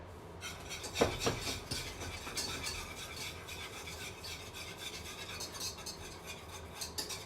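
A metal whisk scrapes and rasps steadily around a pot of simmering garlic parmesan sauce, close and continuous with small clinks against the pan.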